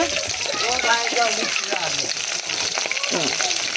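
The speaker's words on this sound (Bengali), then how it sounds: "মাছ ভাজা বসিয়েছি আর এখানে মাছের মাথাটা ভাজা হয়ে গেছে" Fish and a fish head fry in hot oil, making a constant close hiss and sizzle while a person talks over it throughout.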